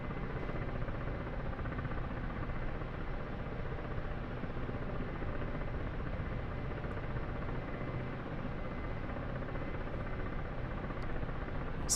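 Ka-50 Black Shark attack helicopter in the DCS combat flight simulator, a steady, dense rotor and turbine drone running continuously at even loudness throughout, with no voices.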